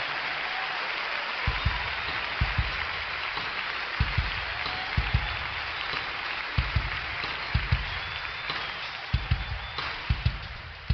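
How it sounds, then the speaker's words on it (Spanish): A church congregation claps during a worship service, sending rhythmic bursts of applause through the room over a steady background hum. Several claps are sharp and distinct, spaced across the clip. "¿Por qué no le dan un aplauso fuerte al Señor?"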